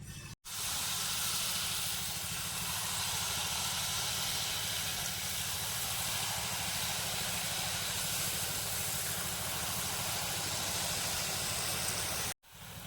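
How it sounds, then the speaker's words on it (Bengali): Jalebi batter fries in hot oil in a pan with a steady, loud sizzling hiss that holds unbroken for about twelve seconds, with no voices. "এখন বাকি জিলেপিগুলো ভেজে নেবো"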